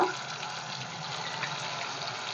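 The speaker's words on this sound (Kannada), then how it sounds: "ಎಣ್ಣೆ ಚೆನ್ನಾಗಿ ಕಾಯ್ದೈತೆ ಇವಾಗ ಒಂದೊಂದೇ ಪೀಸ್ ಹಾಕ್ತಾಯಿದ್ದೀನಿ" Mint kebab pieces fry in hot oil with a dense, steady hissing sizzle, close and even throughout.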